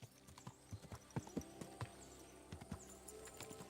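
A horse's hooves clip-clop at a slow, uneven walk in a medieval role-playing game, with faint steady thuds over quiet background ambience.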